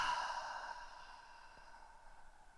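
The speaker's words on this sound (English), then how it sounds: "And exhale out the mouth as you let the arms go" A single soft, breathy exhale out the mouth during a yoga breathing exercise, close and quiet, trailing off slowly in a calm, still room.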